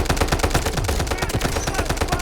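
Gunfire in the mobile shooter Delta Force comes as loud, rapid, continuous automatic bursts that pound close and dense throughout.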